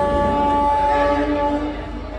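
The 17411 Mahalaxmi Express, an LHB rake, departs Mumbai CSMT with a sustained tonal horn-like wail over a low rumble that fades slightly over about two seconds.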